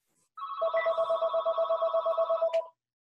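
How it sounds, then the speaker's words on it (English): A telephone rings with a steady, rapidly pulsing electronic trill, loud and close, for about two seconds before cutting off, with no talk over it. "so my phone quits ringing"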